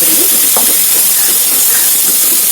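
Ingredients sizzle loudly in a frying pan ahead of fish pieces going in, a dense, steady hiss and crackle heard up close for the whole stretch.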